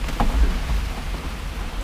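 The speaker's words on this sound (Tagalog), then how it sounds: "Kasi malakas yung ulan." Steady rain with a dull low rumble and constant wash of noise, no voices.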